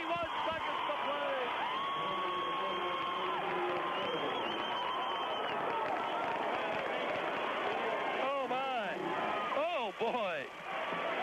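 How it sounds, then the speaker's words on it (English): At a 1997 basketball game, a packed crowd roars and cheers loudly and without a break as everyone rises to their feet. A commentator talks over the noise, and sneaker squeaks from the court cut through near the end. "Listen to this place go crazy."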